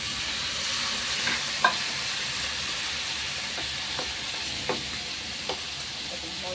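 Steady frying sizzle in a pan as bottle gourd is added to cooked-down spices and stirred, with a few sharp scrapes and clicks of a spoon standing out at intervals over the constant hiss.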